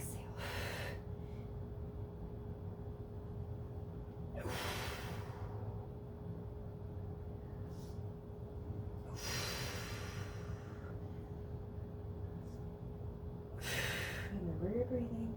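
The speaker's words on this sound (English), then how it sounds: "Inhale, exhale." Breathing during a Pilates exercise: four audible breaths, each a short airy rush, spaced several seconds apart over a low room hum, fairly faint and close.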